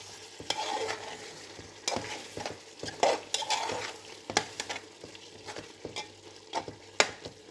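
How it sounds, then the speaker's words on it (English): Chicken biryani mixture is stirred briskly in a pot, with repeated scraping strokes and spoon knocks in an uneven rhythm over a faint sizzle, close and moderately loud. "give it another quick mix"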